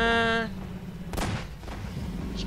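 Weapon fire in the video game Half-Life 2, a sharp shot-like burst followed by a brief echoing tail and lower ambient game noise, moderately loud with no speech.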